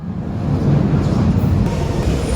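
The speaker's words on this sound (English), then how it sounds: "next train will be a Central Line service" A London Underground Central Line train rumbles steadily and loudly, close by, with a dense low roar and faint rail clatter throughout.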